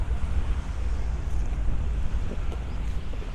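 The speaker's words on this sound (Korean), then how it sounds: "여러분 파도 소리 들리나요?" Steady rushing noise of ocean waves on the Jeju coast mixed with wind buffeting the microphone, continuous and fairly loud with no voices.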